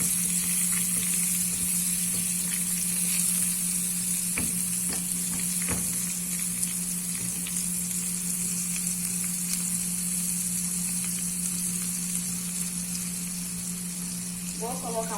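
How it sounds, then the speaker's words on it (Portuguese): Sage leaves sizzle in butter in a nonstick frying pan in a professional kitchen, a steady, close frying hiss running throughout with a few faint clinks and a low constant hum underneath. "Vou colocar folhas de salga para aromatizar."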